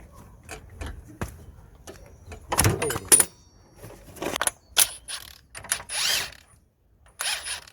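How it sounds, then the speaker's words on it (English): Socket and ratchet undoing a 32mm nut on a Nissan Note's wheel hub during CV boot work, close metallic clicks and clunky bursts of ratcheting and tool handling in irregular spurts, with some talk in between. "we're going to undo the 32mm nut with the 32mm socket"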